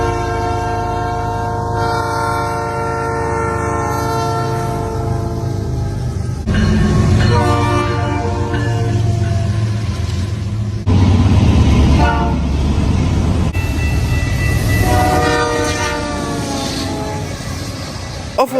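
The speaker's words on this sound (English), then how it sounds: "the P3 has a different tone than the P5. They can be found on the Dash 9 locomotives." A CN locomotive sounds a Nathan P3 air horn, the type fitted to Dash 9, GFO and SD75I units, in several long, loud sustained chord blasts with brief breaks between them, close and clear over a steady low rumble.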